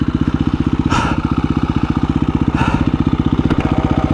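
A KTM 350 EXC-F dirt bike ridden fast on sand, its four-stroke engine a loud, close, rapid pulsing drone with bursts of wind and spray noise over it.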